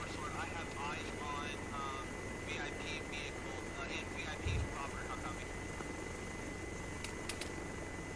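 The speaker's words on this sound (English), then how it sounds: "One helicopter is starting to take off." A helicopter lifts off in a military video game, its steady rotor and engine drone running throughout beneath radio chatter and voices, with a brief low thump midway.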